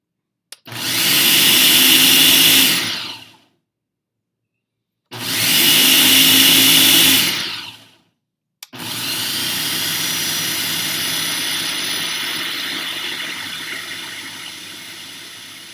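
A countertop blender pulses refried beans in loud bursts: two roughly three-second whirring pulses separated by short pauses, then a longer steady run that gradually eases, with no talking.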